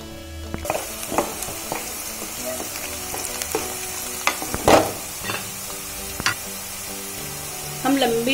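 Poha being stirred and mixed in a pan with a spatula, scraping and clinking strokes scattered over a steady soft sizzle, close and moderately loud with no talking.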